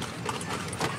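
A horse's hooves clip-clop on the street while pulling a kalesa carriage in Vigan, Ilocos Sur, a short burst of steady, close hoof strikes mixed with carriage rattle.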